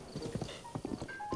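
Horse hooves clip-clopping in Zelda: Breath of the Wild, a quick run of close hoof beats with a brief whinny-like cry among them, the game's soft ambience beneath.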